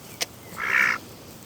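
A single duck gives one short, nasal quack, close and clear, just after a faint click, against quiet background hiss.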